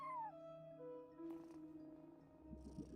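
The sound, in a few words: cat meowing in the video game Genshin Impact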